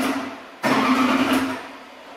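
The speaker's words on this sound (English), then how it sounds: "I'm gonna crank it over a couple of times and see if the belt wants to stay on there, just to check." A junkyard 4.8L LS engine fitted with an M90 supercharger cranks over briefly, a sudden close, rough whirring burst lasting about a second before fading.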